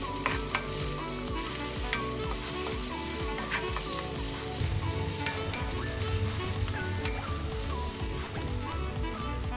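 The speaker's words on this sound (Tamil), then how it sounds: "நல்ல கோல்டன் ப்ரௌன் ஆகிற வரைக்கும் வதக்கிக்கலாம்." Onions sizzle steadily in hot oil while a utensil stirs and scrapes the pan now and then, close and continuous.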